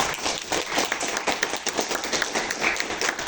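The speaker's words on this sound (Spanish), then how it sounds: "Un aplauso para Robert Baca." Audience applause at a book-presentation lecture in a classroom: steady, dense clapping from many hands, held at an even level throughout, with faint murmurs underneath.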